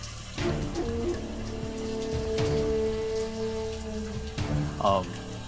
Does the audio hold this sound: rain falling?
yes